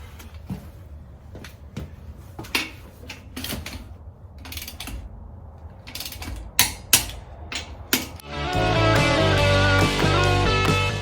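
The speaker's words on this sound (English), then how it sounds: "I'm gonna torque the rear tires and pretty much be done for the night." A ratchet wrench clicks in short, uneven bursts while lug nuts are torqued on the rear wheels of a restomod Wagoneer, followed by a steady louder mechanical whir near the end.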